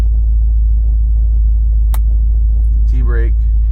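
A Pontiac GTO engine idles with a steady low rumble while held on the trans brake, close and constant throughout, with a brief sharp click partway and a short voice near the end.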